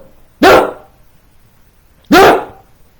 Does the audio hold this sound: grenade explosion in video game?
no